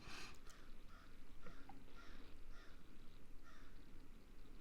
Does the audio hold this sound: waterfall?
no